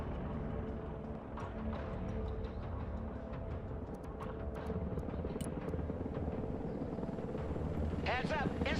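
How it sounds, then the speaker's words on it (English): A CH-53 heavy-lift helicopter in the combat video game Broken Arrow gives off a continuous low rotor drone, with scattered game effects and a chirping burst near the end. "CH-53 heavy lifter here."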